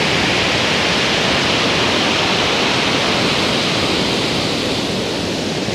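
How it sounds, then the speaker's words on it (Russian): Powerful storm waves crash onto a Black Sea beach at Sukko, a dense, continuous roar of surf that fills the whole stretch at high volume with no voices. "мощнейшие волны обрушиваются обратно на берег."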